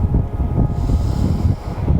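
Strong wind buffets the microphone on a Gold Coast beach, a continuous low rumbling roar that swells and dips without pause, with no voices.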